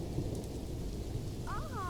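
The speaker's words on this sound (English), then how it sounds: "Sorry about the rain as well." Rain and thunder in a Planet Zoo franchise zoo: a steady hiss of rainfall under a low rolling rumble, moderately loud and even throughout, with no talk.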